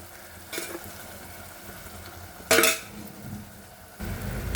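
Food sizzles in a hot pan while a utensil scrapes and stirs in short bursts, with a louder clatter midway and the sizzling swelling at the end, as ingredients are sautéed and chilli powder added for fried fish curry.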